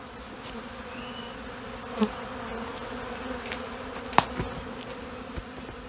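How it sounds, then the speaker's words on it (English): A dense, steady hum of many agitated honey bees from a queenless colony buzzing up close, with a few sharp clicks and knocks breaking through the droning swarm. "I've got some really upset bees"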